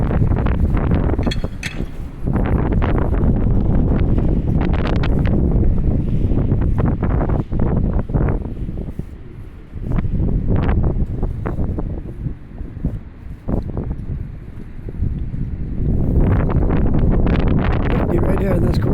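Wind buffets the microphone on a ferry ride between Dartmouth and Halifax, a loud, nearly continuous rumble that surges and drops in gusts, with voices talking underneath.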